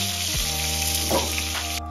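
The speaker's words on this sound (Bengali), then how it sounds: "তেলটা গরম হয়ে গেছে, তো এবার মাছটা কড়াতে দিয়ে দেবো ভাজতে।" A piece of fresh featherback (foli) fish sizzles in hot oil in a kadai, a loud, continuous frying hiss with no talking over it.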